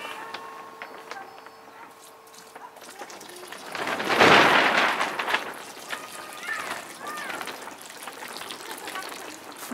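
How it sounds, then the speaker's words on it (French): Water pours into the bottom of a garden furrow prepared for sowing dwarf green beans, swelling into a loud rushing splash midway before easing back to a softer trickle. "Donc on va arroser le fond du trou, du sillon."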